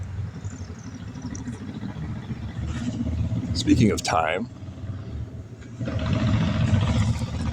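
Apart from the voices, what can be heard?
noisy motorcycle engine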